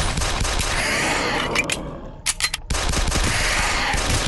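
Frag grenades and gunfire erupt in SAS: Zombie Assault 3, a dense, loud barrage of bursts and rapid shots that drops out briefly for a few sharp pops before the racket resumes.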